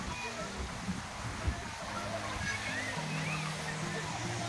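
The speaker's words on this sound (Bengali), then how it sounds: "এই আছে ঝর্ণার জলের ওই জায়গাটা, এটা হচ্ছে কিউফলা ফলস" Quekhola Falls, a waterfall along the Lingtam–Zuluk road, gives a steady, moderate rush of falling water heard from a distance, with soft murmuring under faint background sounds and no clear talk.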